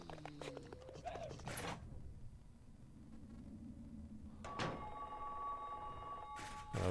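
A telephone rings in the video game Silent Hill 3, a faint electronic ring among game sound effects and thumps, with a brief voice in the background.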